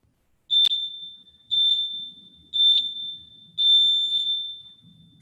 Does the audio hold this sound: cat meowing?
no